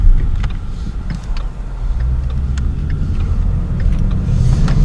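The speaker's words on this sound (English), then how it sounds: "I'm just going to be driving around the neighborhood a little bit" A car drives around a residential neighborhood, heard from inside as a steady low road rumble and engine drone with faint ticks, with no talking.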